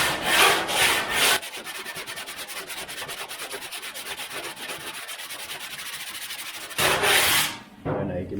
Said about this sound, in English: we're just going to sand that off with our sanding block using the right technique